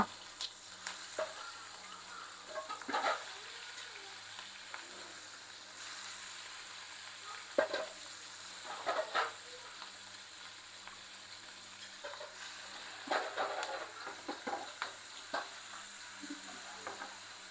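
Prawns fry lightly in a hot wok with a soft, steady sizzle. Faint scrapes and clinks of stirring come in bursts, all quiet and fairly close.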